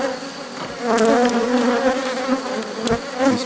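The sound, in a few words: honey bees buzzing in an open hive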